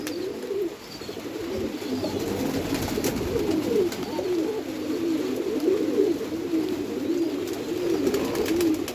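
Pigeons cooing continuously in a rainy-season loft, a dense overlapping chorus of low throaty coos at close range against a steady background hiss.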